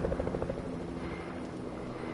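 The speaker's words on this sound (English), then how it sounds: "Look at the chopper." A helicopter passes overhead with a steady rotor throb and churning drone, close and loud, filling the whole stretch without talk.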